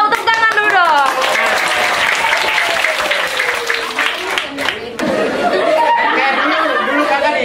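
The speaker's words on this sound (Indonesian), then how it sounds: "Semua tahu, tepuk tangan dulu dong." Loud crowd applause and clapping at a gathering in Asmat, Papua, mixed with lively chatter, voices and some laughter, with a short dip partway through before the noise picks up again.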